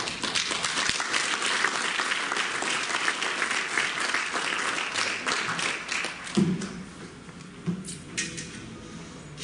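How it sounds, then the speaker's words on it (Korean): Church camp audience applauding to welcome a pastor to the front, a dense, loud clapping roar that thins out toward the end, leaving scattered claps and shuffling. "나오실 때 큰 박수로 환영하겠습니다."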